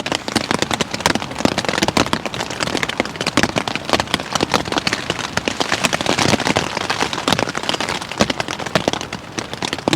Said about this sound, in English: the rain's been going on for about 3 hours